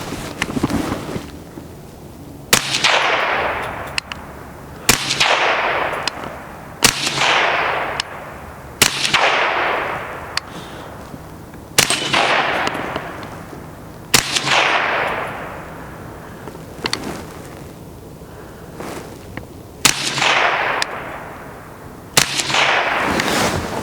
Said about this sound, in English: I'm gonna shoot 8 more shots, so a total of 10, and get an average velocity out of this Surefire can.